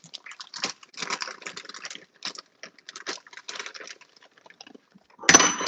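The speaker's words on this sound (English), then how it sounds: "now I'm gonna go in that same grease. I'm about to drop these fries" Fries dropped into hot used frying grease for a home Mother's Day dinner, giving a loud burst of sizzling and bubbling at the very end after scattered crackles and light clicks in a kitchen.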